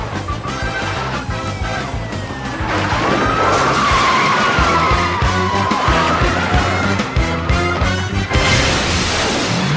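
A car from the 1988 horror film Child's Play skids out of control, tires screeching in long wavering squeals over a revving engine, loud and close, with thuds and rattles as the chaotic scene builds.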